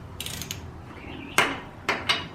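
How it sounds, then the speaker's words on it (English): Ratchet clicking while tightening strut bolts on a Nissan Sentra: a quick run of light clicks, then a few louder, sharper clicks close by, with no voices. "And then I got a ratchet."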